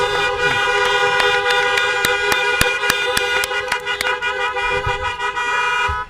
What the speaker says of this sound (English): let's please give a round of honks to Dr. Paris.